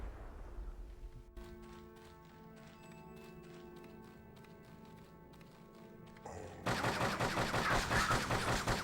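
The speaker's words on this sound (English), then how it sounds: "Someone's firing." Rapid gunfire from the Xbox game Brute Force rattles in a fast rhythmic burst, then a louder, denser stretch of shooting and action noise takes over near the end.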